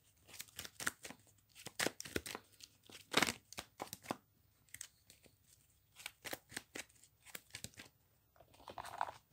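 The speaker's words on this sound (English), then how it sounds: "we'll shuffle up the deck" Playing cards being shuffled for a tabletop wargame, a run of sharp riffling and snapping bursts with short pauses between them, close and fairly quiet with no talk.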